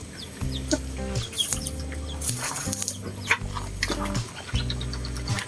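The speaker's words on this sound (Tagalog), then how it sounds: "ito po yung aking dalawang tandang" Two free-range roosters cluck and call in close succession, rhythmic low clucks repeating over steady farmyard background noise, with no talking.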